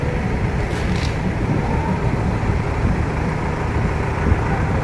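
Passing vehicles at night under a stormy sky, a continuous loud wash of road traffic and engine rumble with no pauses, steady throughout.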